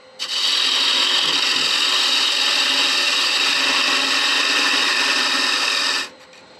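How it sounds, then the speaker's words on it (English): A carbide wood turning tool cuts into wood spinning on a lathe, a steady loud rushing scrape that starts abruptly and holds for about six seconds before stopping. "Just got my normal carbide, so I just want to cut in here."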